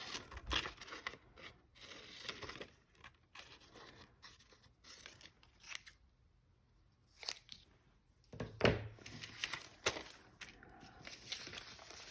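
Scissors snip out a paper house shape cut from junk mail envelopes, with quiet, close crisp cuts and paper rustles in irregular bursts and short pauses.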